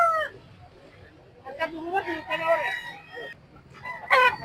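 A rooster crows at a fighting cock expo in a public market, with a loud, drawn-out call near the end, as other fowl cluck and people talk in the background.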